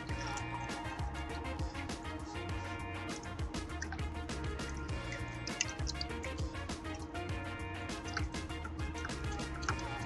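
Water trickling and dripping as a Fluval 407 aquarium filter part is rinsed in dirty tank water, a close, quiet stream of splashes and drips, with no talk.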